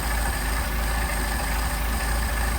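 A car engine fitted with Solex carburetors idles steadily, a continuous low rumble with a faint regular pulse, close and alone with no talking.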